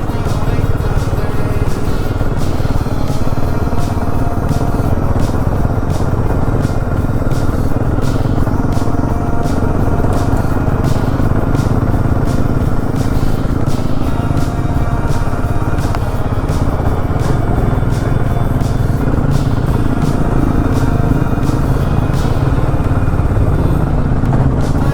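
A motorcycle rides a mountain road between Kalpa and Chitkul in Spiti, its engine droning steadily and close for the whole stretch with road rumble and wind buffeting, no voices.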